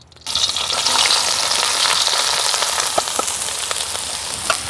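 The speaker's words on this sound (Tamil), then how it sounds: "நாங்கள் இப்போ வெட்டி வச்ச வெங்காயமும் பச்சை மிளகாயும் போட்டு வதக்க போகிறோம்." After a short quiet start, chopped onion and green chilies hit hot oil and sizzle loudly and steadily, with occasional crackles and light stirring scrapes throughout.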